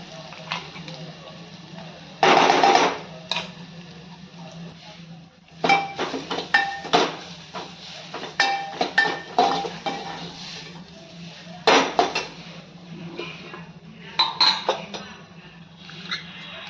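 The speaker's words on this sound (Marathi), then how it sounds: "हिरवं वाटण करून घेतलंय ना हिरवी मिरची लसूण खोबरं ते घालून घेऊयात आणि व्यवस्थित परतून घेऊयात" Green chili, garlic and coconut paste sautés in oil in a pan, heard as a run of spoon scrapes and knocks against the metal over a low hum, with a cough-like burst early on.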